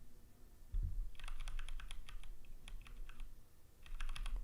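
Rapid keystrokes clatter on a computer keyboard in irregular bursts, close and fairly quiet, over a low hum with a soft thump near the start.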